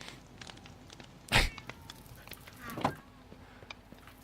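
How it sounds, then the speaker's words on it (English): Two cats meow together in unison, forming a brief harmony: one loud, sharp meow near the start and a softer second call later, over a low, steady room background with no talk. "I love how the 2 cats just meowed in unison, and it made a harmony."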